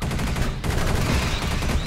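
Rapid bursts of gunfire from the sci-fi shooter Space Beast Terror Fright, loud and dense, with near-continuous shots rattling across the whole stretch.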